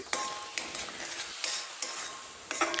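A spoon stirs grated coconut into a kozhukattai filling mixture in a pan, giving soft, intermittent scraping clicks and light clatters at close range, with no talk.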